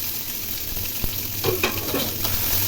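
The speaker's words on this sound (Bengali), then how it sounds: "এর মধ্যে দিয়ে দিলাম কুচানো পেঁয়াজ" Chopped onions frying in hot oil in a pan for a prawn and pumpkin curry, a continuous close sizzle with a few stirring scrapes and clicks, no voices.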